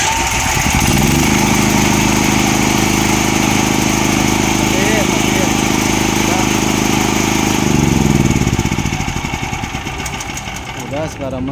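A Krisbow 5500 petrol generator engine runs loud and close with a steady chugging drone that tapers off near the end.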